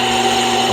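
A power drill with a dull bit whines steadily while boring a mounting hole during a reverse camera install on a Suzuki Jimny, a short, loud, even hum with no talk.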